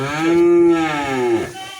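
A Fleckvieh heifer calf at a cattle market gives one loud, close, drawn-out moo lasting over a second, with a little background noise around it.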